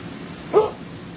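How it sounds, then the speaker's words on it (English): A single short bark from a dog in an animal shelter kennel room, ringing out briefly against a quiet, steady room background. "So Hooch is back here in our second room of adoptable dogs"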